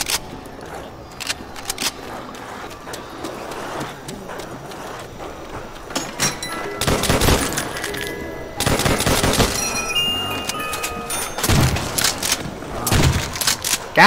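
Trench gun blasts in Call of Duty: World at War Zombies, with bursts of loud shotgun fire amid game ambience and clatter. The shots come in clusters, some fired in quick succession.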